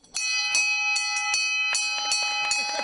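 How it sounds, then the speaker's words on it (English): A bright metal bell is rung repeatedly in quick, slightly uneven strikes, each ring layering over the last, as a patient marks completing a fractionated course of radiation therapy at a proton therapy institute. "That bell signifies the completion of a patient's fractionated course of radiation therapy."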